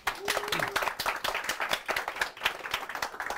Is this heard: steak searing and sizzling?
no